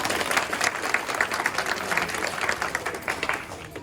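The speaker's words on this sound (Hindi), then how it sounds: "एक जोरदार ताली तो बनती है पटेल जी के।" An audience at a Republic Day program claps with steady, moderately distant applause that holds evenly throughout without fading.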